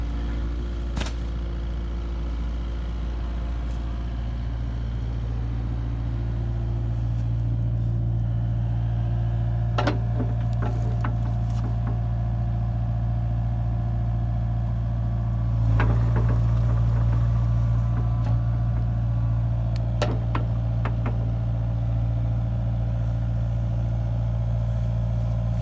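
A Kubota KX057-4 excavator engine runs smoothly at low RPM while cleaning ditches, a steady close drone with occasional faint clicks and clanks from the machine and a slight rise in engine note partway through.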